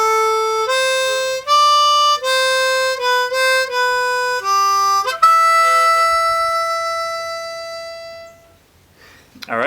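Harmonica in G playing a melodic line: a run of distinct held notes and steps, ending on one long sustained note that fades, played solo and close with no talking.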